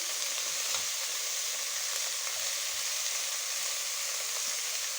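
Steady, close sizzling of Brussels sprouts and carrots frying in a pan, a continuous bright crackle with faint stirring scrapes underneath and no talking.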